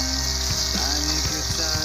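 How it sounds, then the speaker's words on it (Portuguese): A loud, continuous sizzle of a rib burger patty frying in a pan, with soft crackles and occasional pops throughout. "Deixar fritando 3 minutos de cada lado."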